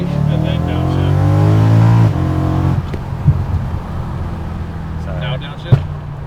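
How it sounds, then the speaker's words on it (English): A BMW E92 M3 with a Magnaflow exhaust pulls hard, its tonal engine note rising loudly, then backs off to a rumbling drone with a couple of sharp exhaust pops; people talk over it. "the exhaust is louder, but the downshifts feel pretty quiet"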